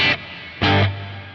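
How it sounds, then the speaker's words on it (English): Electric guitar through a 64-millisecond slapback delay and distortion, two short bright strums with a quick room-like echo, the second chord ringing on and fading. "that's actually like giving you sort of like the slapback that you would get from a room"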